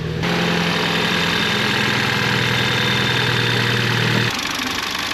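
A BMW B46 engine, freshly swapped into an F30, idles steadily on its first start. A smooth, even hum runs close and loud for about four seconds, then shifts to a lighter tone near the end.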